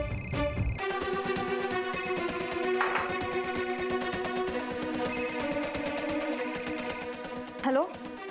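A telephone ringing late at night indoors, a repeating electronic ringtone pattern that sounds in regular bursts and continues steadily, with a brief louder knock near the end.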